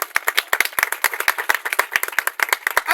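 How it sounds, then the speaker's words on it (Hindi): Clapping applause at a religious gathering, a small group beating out quick, sharp, distinct hand claps in a lively, uneven rhythm, close and loud throughout. "इनके लिए जोरदार ताली बजाएं"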